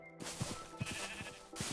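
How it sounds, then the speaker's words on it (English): Sheep in the video game Minecraft bleat in short repeated cries, three or four quick bleats spaced across the moment, clear and close with a faint background hum and no talking. "And there's the sheep."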